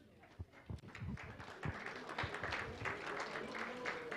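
Audience applause at an equestrian officials' forum, starting with a few scattered claps and building into steady clapping from a room of people, with faint voices underneath.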